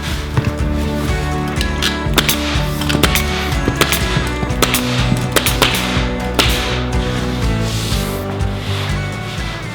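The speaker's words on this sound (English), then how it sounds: "And you staple the edge of it." Staple gun driving staples along the edge of a floor sheet while building a dance studio floor: a run of sharp, loud clacks in quick irregular succession over steady background noise, with no talk.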